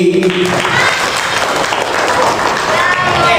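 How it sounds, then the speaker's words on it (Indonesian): A crowd of children claps steadily and loudly throughout, dense applause with voices mixed in underneath, at a storytelling session in an Indonesian Quran school. "Tepuk tangan dong buat Yongki."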